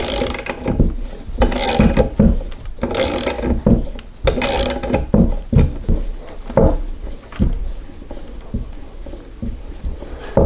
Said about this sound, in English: Now I'm just going to use a socket and tighten up the nut and pull the bearing.